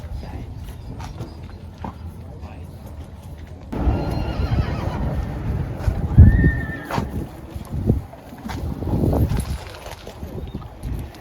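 Horses neighing at a horse auction, a loud whinny rising above shuffling hooves and general barn bustle, with quieter background activity before and after.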